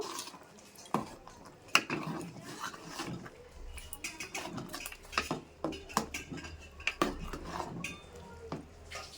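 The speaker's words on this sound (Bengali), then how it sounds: "এইবারটা আমি আবার একটু নাড়িয়ে দেব" A spoon stirs Gobindobhog rice and mixed-vegetable khichuri with ghee in a cooking pot, making irregular close clinks and scrapes against the metal at a fairly quiet level.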